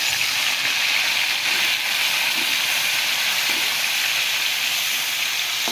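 Tomatoes hitting plenty of hot oil while sautéing fermented fish buro, a steady loud sizzle and hiss that holds evenly for several seconds with no pauses.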